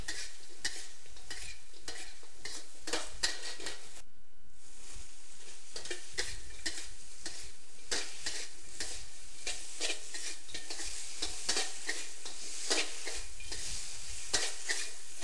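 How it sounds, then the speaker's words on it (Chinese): Pork ribs and green peppers stir-fried in sweet and sour sauce, a constant close sizzle with rapid, rhythmic scraping and clanking of a spatula against the wok, no talking. "把排骨及青椒放入， 炒至排骨完全吸附酱汁"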